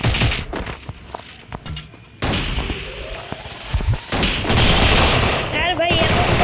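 Gunfire in the Free Fire battle royale game, dense bursts of rapid automatic shots and single cracks in quick succession, loud and close, with brief gaps and a voice speaking over parts of it.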